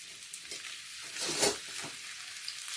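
Chopped vegetables stir-fried for a chicken curry in a hot pan, a steady close sizzle with scraping stirs and one louder burst midway, no talking.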